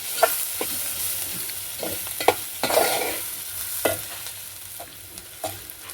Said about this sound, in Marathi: मसाले टाकल्यानंतर हे मिश्रण एक चांगलं एकजीव करून घ्यायचं आहे